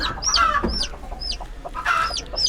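A brooding mother hen clucks close by in short bursts, with high chirps from her chicks scattered between the clucks.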